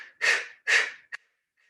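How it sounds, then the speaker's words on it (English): Two strong breathy exhales pushed out through the mouth during a yoga breathing exercise, each about half a second long, followed by a short sharp puff, all close and alone with no talk. "So as you exhale through your mouth, you pull your belly in."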